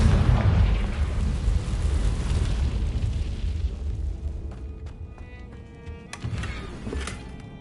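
A Confringo fire spell explodes in Hogwarts Legacy, giving a loud, booming blast that rolls and slowly decays, followed by a few faint sharp clicks and pops, with no voices.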